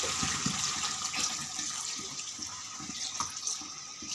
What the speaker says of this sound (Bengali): এই ছোট বোতলের 1 বোতল জল দিচ্ছি।